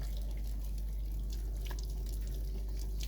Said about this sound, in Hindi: इनको पानी से धोती हूँ